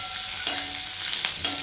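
Onion and tomato sauté in a pan, giving a steady close sizzle with a few sharp scrapes of a spoon stirring, and no voices.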